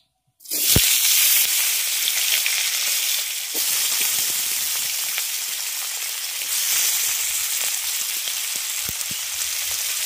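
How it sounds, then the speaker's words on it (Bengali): Long-cut potato slices dropped into hot oil in a rural kitchen, a loud burst of sizzling followed by a steady, bright hiss of frying with scattered pops. "তেল গরম হয়ে গেলে এর মধ্যে যে আলুগুলো আমি লম্বা লম্বা করে কেটে রেখেছিলাম সেগুলো দিয়ে দিচ্ছি।"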